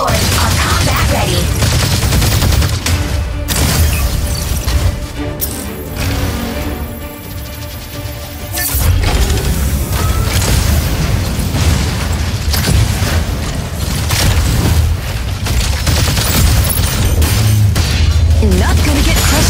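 In the mech combat game Mecha BREAK, an energy auto cannon fires in dense, booming bursts with explosions, loud and continuous apart from a brief lull midway.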